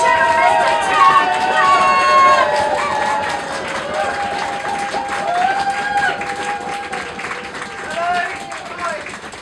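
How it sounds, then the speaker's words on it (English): Pub audience at a poetry night at The Cumberland Arms stamping, clapping and cheering, a dense continuous crowd roar heard under a voice talking over it. "Start stamping, start clapping, start cheering"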